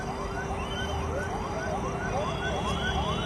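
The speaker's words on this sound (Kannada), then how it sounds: "ಆಂಬುಲೆನ್ಸ್ ಬಂತು ನೋಡಿ." An ambulance siren wails in steady, repeating rising sweeps, somewhat distant, over constant road and traffic noise on an airport road in Bengaluru after a car crash.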